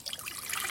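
Coffee tipped back out of an overfilled cup makes a brief, soft trickle, close and faint, with no voices.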